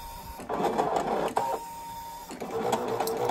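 A Brother ScanNCut 2 cutting machine drawing with a WRMK foil quill gives off a close, busy mechanical whir, with short motor bursts and pauses as the head shifts between strokes.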